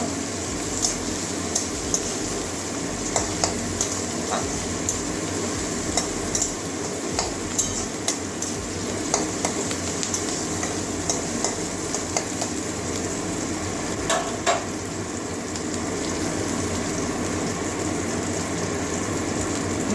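Chopped onions frying in oil in a home kitchen pan while cooking a Bengali bitter gourd, potato and water spinach dish, giving a steady, close hiss and sizzle with faint stirring clicks throughout.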